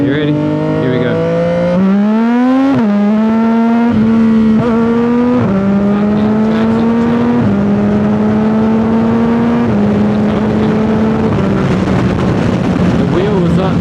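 A 2025 CFMOTO 675 SS motorcycle with a full exhaust accelerates hard, its loud, close engine note climbing through several gear shifts with a short drop in pitch at each change.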